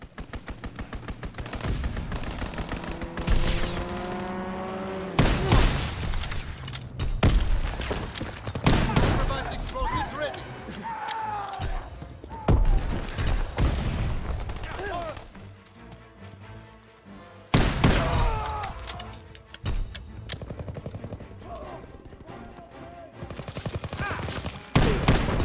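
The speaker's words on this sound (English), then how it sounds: "Fighter pilot inbound, strafing the target." Sustained video-game gunfire from a fighter plane's strafing run, long dense bursts of rapid automatic shots with rumbling blasts, broken by short pauses and continuing loudly throughout; voices speak intermittently beneath the noise.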